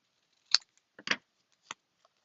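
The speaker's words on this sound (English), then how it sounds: "doing it with my scissors" Scissors snip through card stock in a few sharp, separate cuts, close and crisp with short pauses between, no voices.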